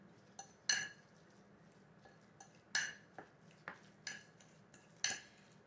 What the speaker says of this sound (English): Just going to keep stirring this all together, just blended nice, and it's nice and creamy.